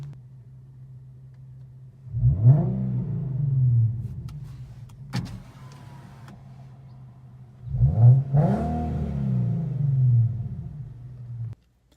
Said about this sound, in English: I also love that it has a super nice rev both outside of the car and when you're in the car with the windows rolled up.